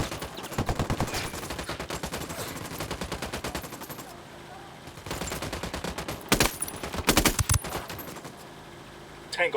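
Bursts of automatic gunfire in Ghost Recon Wildlands come in rapid rhythmic volleys, loud and close, with short pauses and a few sharp, heavy reports near the end, alongside some in-game talk.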